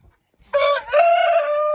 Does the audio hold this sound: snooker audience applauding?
no